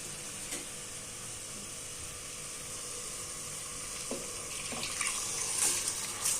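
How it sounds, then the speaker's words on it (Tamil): Water pours and splashes steadily into a pot of rice, a soft continuous gush with a few clinks near the end, close and fairly quiet. "ஒரு டம்ளர் தண்ணி ஊற்றினேன்."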